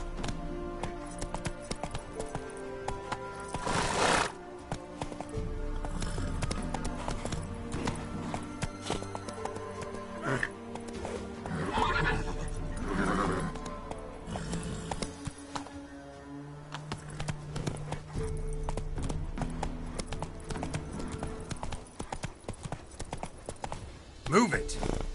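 Roach, the horse in the video game Witcher 3, clops along in a steady rhythmic walk and lets out an occasional whinny, with game music and a speaking voice layered over the hooves.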